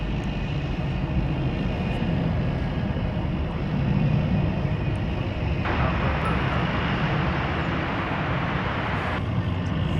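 An airplane at DFW Airport, a steady loud broadband engine roar that holds on without a break for the whole stretch, with wind rumble on the microphone.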